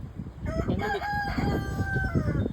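Cornish cross chickens make short clucking and drawn-out calls close by, a busy run of fowl sounds lasting a couple of seconds.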